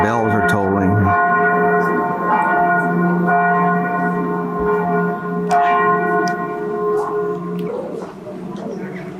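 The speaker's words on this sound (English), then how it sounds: "It's 12 o'clock now, so the bells are tolling." Church bells toll at noon in Italy, with long ringing tones overlapping and sustaining across the whole stretch, loud and resonant, with fresh strikes every few seconds.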